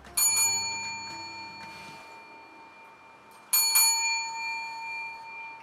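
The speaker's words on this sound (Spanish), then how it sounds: "Por eso la campana." A service bell at a library desk rings twice, with bright ringing tones that fade slowly. The first ring comes at the start and the second a few seconds later, in a quiet room.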